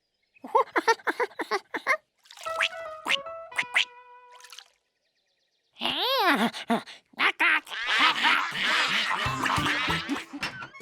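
Cartoonish quacking from puddle ducks in a Curious George cartoon comes in short bursts, then a busy, noisy stretch of squawks and splashy chatter, loud and close.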